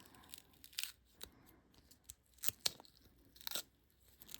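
Scissors snip around a paper craft piece in a quiet room, a series of short crisp cuts at an irregular, unhurried pace with small pauses between them.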